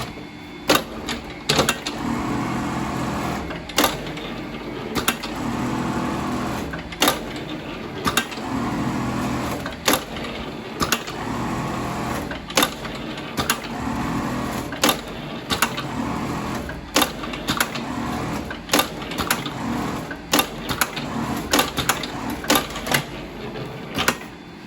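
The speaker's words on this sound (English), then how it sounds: "Now we make the first sewing." A Foggiato Strobel KA-ED sewing machine stitches fabric in a workshop, giving a steady rhythmic mechanical chatter with regular sharp clicking beats that repeat across the whole stretch, with no talk over it.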